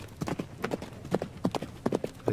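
A horse's hooves clip-clop in the video game Frontiers, a soft, close rhythmic series of paired hoofbeats at an easy walking pace.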